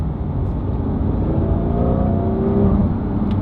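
A Porsche GT3 engine revs hard as the driver shifts down through the gears. A loud, steady mechanical roar stays close throughout, rising in pitch and intensity toward the end.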